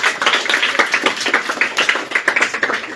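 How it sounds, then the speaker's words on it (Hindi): A group of students clapping together during a classroom quiz competition, a dense, continuous patter of many hands at close range, fairly loud and steady for the whole stretch. "ताली बजाओ।"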